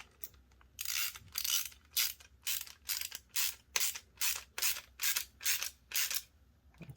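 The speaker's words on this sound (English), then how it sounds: "we're going to just tighten this with a 10mm." A 10mm wrench ratchets a bolt tight on a Rizoma fender eliminator for a Ducati Monster 937. About a dozen quiet, evenly spaced rasping clicks repeat close up with no talk.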